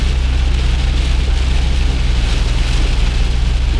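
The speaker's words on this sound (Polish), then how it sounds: "No ale żeby taki deszcz, taka ulewa" A heavy rain downpour during a drive through Austria, heard as a loud, continuous wash of dense rainfall over a deep steady rumble, with no voices.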